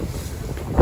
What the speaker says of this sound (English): So it's really windy right now.